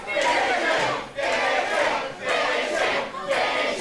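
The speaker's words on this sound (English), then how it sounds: "The crowd here at the Commemoration Hall. I don't have to tell you their answer." A wrestling crowd packs a hall, roaring and chanting in loud surging waves that rise and fall about four times in a few seconds.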